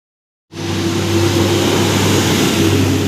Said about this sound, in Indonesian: truk molen,